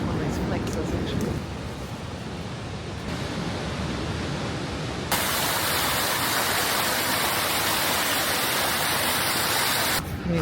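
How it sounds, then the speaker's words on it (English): A waterfall in New Zealand makes a steady, dense broadband rush heard outdoors, continuous and fairly loud, with its intensity shifting partway through as the listening position changes. "There's a waterfall over there."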